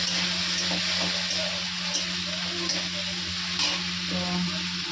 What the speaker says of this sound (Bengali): চিংড়ি মাছটা দিয়ে দিই হালকা হালকা করে ভাজবো